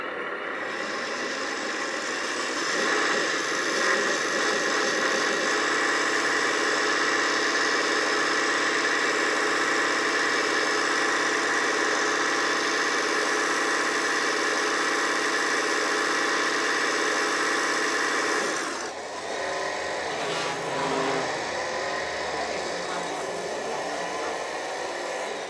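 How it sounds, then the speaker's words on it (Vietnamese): Ford F450 truck engine running on test rollers, a loud steady whirring drone with a constant tone that shifts abruptly near the end into a rougher, lower rumble with background noises. "Mình nổ máy lên này, mình bấm ga nhẹ nhẹ lên này."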